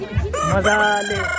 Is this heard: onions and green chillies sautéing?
no